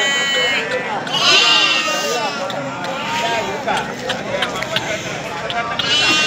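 Sheep, including native and Bandur rams, bleat repeatedly at the busy Malavalli sheep market, loud calls rising over steady crowd chatter and people talking nearby.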